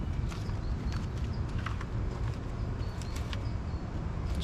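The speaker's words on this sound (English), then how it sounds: "And we're walking away with the key fob." Footsteps walk away from a parked 2023 Honda Accord Sport-L Hybrid, a soft irregular patter under steady outdoor background noise.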